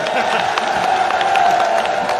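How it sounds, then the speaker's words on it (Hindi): Crowd at a political rally in Uttar Pradesh clapping for the police, a steady patter of many hands a little way off, continuous and fairly even throughout. "पुलिस वालों के लिए ताली बजाओ"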